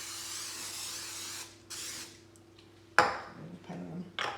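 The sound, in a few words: cooking spray sprayed into bowl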